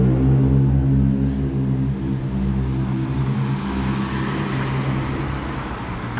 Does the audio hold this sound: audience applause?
no